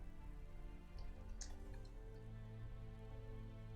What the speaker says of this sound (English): It must be raining just slightly.